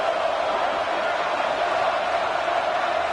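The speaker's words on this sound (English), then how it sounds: "Listen to the crowd energy here in the early going" A football stadium crowd roars in a steady, dense wash of cheering and noise with no breaks, loud and continuous as a visiting team faces a hostile home atmosphere.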